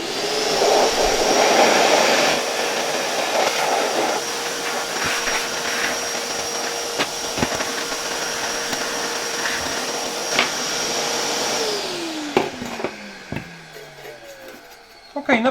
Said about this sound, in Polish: Jeszcze też użyję odkurzacza w funkcji dmuchawy